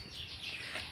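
A munia bird chirps in a home yard, a short burst of thin high tweets over soft low background rumble, fairly close.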